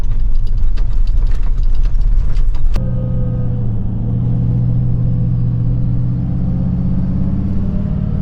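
A four-wheel drive with tyres let down to 20 psi rumbles along a bumpy dirt track near Coffin Bay, a loud steady engine drone inside the cabin after a burst of rattling clatter at the start.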